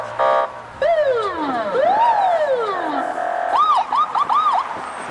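A vehicle's flashing-light siren runs through several modes, long sweeping wails rising and falling, then faster yelping warbles, loud and close with no talk over it.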